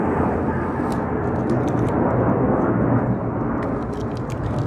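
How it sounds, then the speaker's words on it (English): A jet plane passes somewhere overhead during work on a Mustang S550 bumper, a steady broadband roar that fills the whole clip at even loudness with no voices. "got the jet plane in the background"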